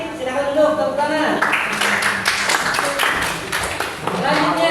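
A class of students in an Indonesian classroom applauds group 1 after its presentation, a brief burst of clapping mixed with voices talking over it, fairly loud and close.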